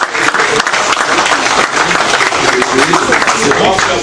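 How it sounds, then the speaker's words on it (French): A conference audience applauds loudly and steadily, dense clapping filling the whole stretch without a break. "j'ai envie que vous applaudissiez pour vous-même."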